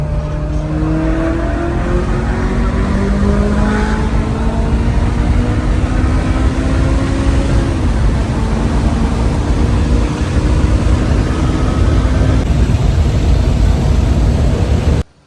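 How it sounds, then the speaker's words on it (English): A Ferrari engine roars loud and continuous at high speed on an Italian mountain road, its pitch rising and dropping through gear changes, with wind and road rush throughout and no talk. "what an experience driving around the mountains of Italy in a Ferrari"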